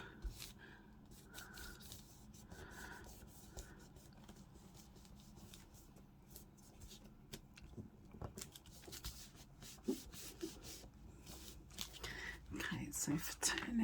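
Hand rubbing paper down onto a journal cover topper, a soft continuous brushing scrape close by, growing a little louder and busier toward the end, with faint breathy noise and no talk over it.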